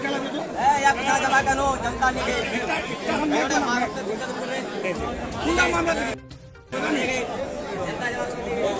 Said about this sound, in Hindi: यहाँ पे विनय दुबे जी की इंतज़ार में लोग जनसैलाब के तौर पे आए हैं